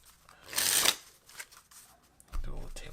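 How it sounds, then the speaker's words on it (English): Playing cards are table-shuffled, a loud riffling burst lasting about half a second followed by lighter card handling, with a voice talking briefly near the end. "Do a little table shuffle with them."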